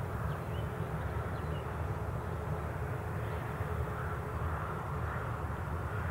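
A business jet departing Newcastle International Airport produces a steady, distant roar with a broad rumbling hum that holds constant throughout and carries no voices.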